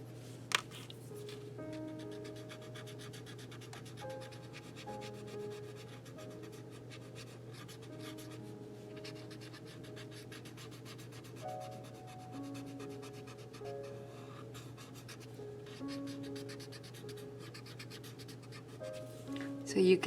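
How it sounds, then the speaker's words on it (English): A graphite pencil shades on paper while a cyclamen tangle pattern drawing is made, giving quiet, close scratchy strokes. A steady low hum and soft tonal background run underneath. "I'm going to take my graphite pencil and add a little graphite on here also."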